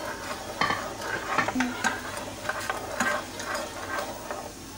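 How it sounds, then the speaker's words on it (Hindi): A spoon stirring tamarind chutney with black salt and regular salt in a pot, scraping and clinking in uneven strokes over a soft simmering sizzle. "तो हमने ये सब इसके अंदर डाल देना है और इसको अच्छे से चला लेना है"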